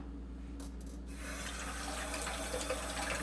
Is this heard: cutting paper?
no